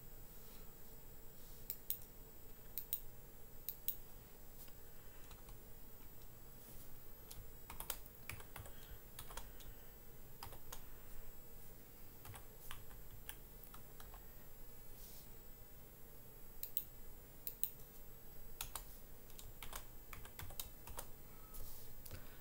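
Faint, close keyboard taps in scattered short runs while numbers are typed into a graphing calculator, with long gaps over a steady low background hum and no voices.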